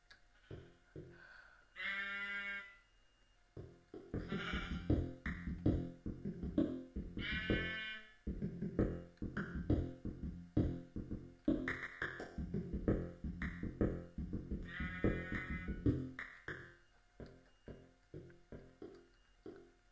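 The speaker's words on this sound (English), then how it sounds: "A sheep spawned in my mine." A sheep in the video game Minecraft bleats several times with clear, wavering calls, alongside rhythmic game sounds such as steps and clicks.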